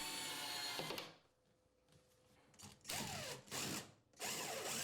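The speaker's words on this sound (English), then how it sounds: "The track is attached to each ceiling joist with screws." Power drill driving screws through a track into a ceiling joist during a kitchen ceiling installation, with two or three short whirring bursts and quiet gaps between them, heard up close.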